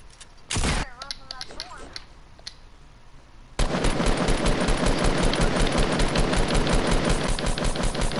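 Gunfire in a first-person shooter: a brief burst of shots, a stretch of voice chat, then a sustained loud rapid automatic volley filling the second half of the clip.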